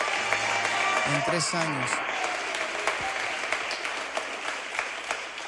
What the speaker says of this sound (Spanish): Démosle un aplauso, vamos.